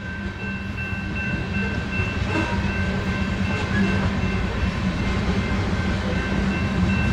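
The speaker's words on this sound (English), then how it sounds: "I just barely got set up here to catch this coal train here." A long BNSF coal train rolls by nearby, a steady low rumble with faint rhythmic clatter of wheels and a high metallic whine over it.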